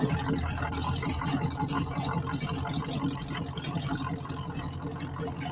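A small, low-slung homemade tractor fitted with a three-point hitch and drawbar, its engine giving a steady, buzzing rattle close by for several seconds.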